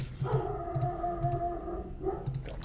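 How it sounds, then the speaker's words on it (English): A dog gives repeated short yelps and whines close by, a steady rhythm of a few per second with a low hum underneath. "Hope you can't hear my dog barking."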